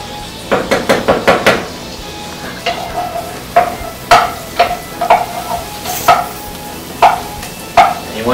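Pasta being stirred in a pan: a quick run of five sharp scraping clacks, then irregular spoon-on-pan knocks and scrapes over a faint sizzle, fairly close and loud, with no talk.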